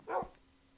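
A single short bark from a Minecraft dog, quick and fairly close, followed by near silence with no voices.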